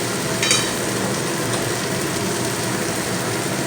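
Hot water poured onto fried masala for a rohu fish curry, the pot hissing and bubbling in a loud, steady, continuous boil close by, with a brief sharper splash near the start and no talk.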